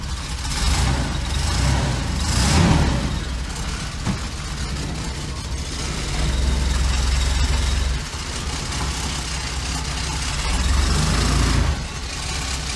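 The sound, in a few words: engine of a $1500 bagged Chevy van running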